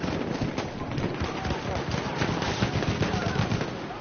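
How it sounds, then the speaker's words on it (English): Rapid machine gun fire from the video game Battlefield 1 rattles in steady, dense bursts, loud and close, running throughout with a voice talking over it. "Machine gun, one of theirs."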